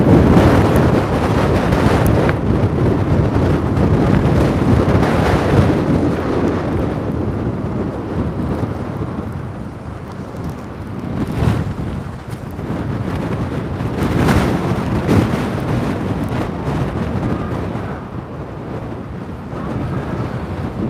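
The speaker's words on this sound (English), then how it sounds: "Just hear the wind just coming through these boats." Tropical storm wind roars steadily through moored boats at a dock, buffeting the microphone, with gusts swelling and easing over water lapping nearby.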